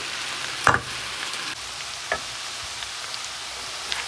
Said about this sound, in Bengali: আমি রুই মাছটা এখানে ভেজে নেবো লবণ হলুদ দিয়ে মাখিয়ে নিচ্ছি